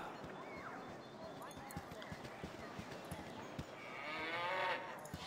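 A cow moos in the fantasy role-playing game Baldur's Gate, with a drawn-out, fairly quiet low call near the end over soft ambient game sound and footsteps.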